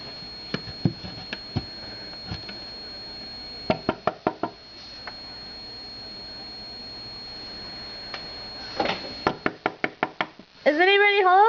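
Knuckles knock on a cupboard door at home in several quick clusters of raps, close and clear over a steady indoor hum, with a voice calling near the end.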